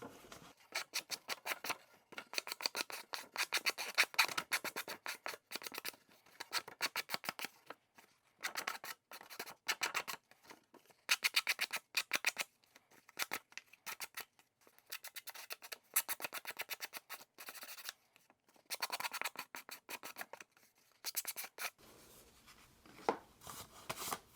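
Rapid, scratchy rubbing strokes of sanding along the edges of a cardboard hanging file folder cover, coming in irregular bursts with brief pauses, close up and fairly quiet.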